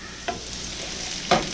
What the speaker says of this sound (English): I'm going to stop the frying process